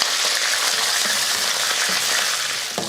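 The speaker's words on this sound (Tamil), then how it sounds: "கடலைப்பருப்பு வந்து நல்லா பொன்னிறமாக வறுத்து வரட்டும்." Chana dal fries in hot oil with dried red chillies and curry leaves, a steady, dense sizzle that stays loud and close throughout, with a faint clink near the end.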